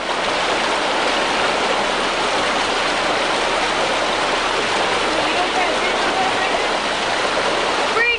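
Steady, full rushing water in a salmon stream, like a stream pouring over a grate, continuous and fairly loud throughout with no breaks.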